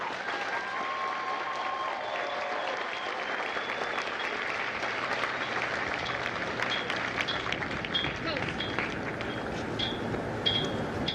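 Crowd applause for company staff at a Marine Corps recruit graduation ceremony in San Diego, a long, steady outdoor clapping wash with occasional whistles and shouts over it.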